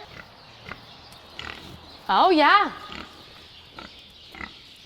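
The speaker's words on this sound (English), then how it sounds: "You guys were hanging out with the pigs here in the barn." A pig squeals in a wavering, warbling call inside a livestock barn at a fair, loud and close for about a second, with quieter grunts and barn noise around it and a person speaking briefly.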